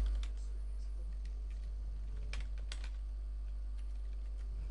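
Fingers tapping out an email address on a computer keyboard, a run of quick, light, irregular keystrokes close by, with small pauses and a few slightly louder clicks over a steady low hum.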